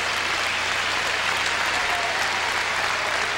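A large crowd at a bowling championship match applauds loudly and steadily throughout, a dense wash of clapping with no break.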